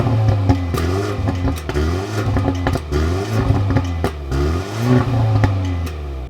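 A 224 hp car engine revs in repeated bursts, pitch sweeping up and falling back several times, loud and close with no talk over it.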